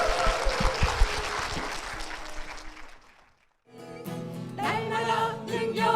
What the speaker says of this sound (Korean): 여러분 축복의 박수 부탁드립니다